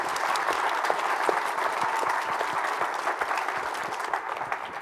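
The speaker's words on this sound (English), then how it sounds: "a big round of applause for our entire panel" Steady, dense applause from a keynote conference audience honoring a panel at a programming event, sustained at an even level throughout without pause.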